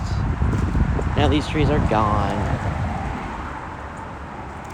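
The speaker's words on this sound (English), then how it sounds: "It's very windy out though, so pardon the noise." Heavy low rumbling wind buffets the microphone continuously while someone speaks briefly over it.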